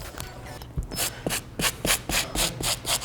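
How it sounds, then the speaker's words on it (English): A stiff bristle brush scrubs the midsole and outsole of Yeezy 500 Blush sneakers in steady, close back-and-forth strokes, about nine rasping passes in quick rhythm with no talking. "let's go ahead and clean up the mid and outsole with this stiff bristle brush"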